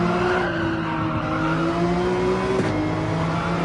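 A Porsche 911 race car in Gran Turismo 7 powering out of turns, its engine droning steadily and loudly with rising pitch, a brief shift dip near the end and faint tyre noise underneath.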